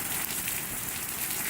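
Mild summer rain falls steadily on a backyard, a soft, even patter and hiss that continues without a break and stays faint and distant, with nobody speaking.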